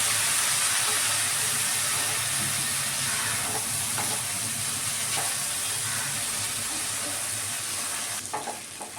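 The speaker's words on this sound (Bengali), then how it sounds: "একটু ফ্রাই করে নেব।" Spice masala for chicken tandoori fries in oil in a pan, giving a loud, steady sizzle and hiss that carries on throughout. Faint stirring scrapes come near the end.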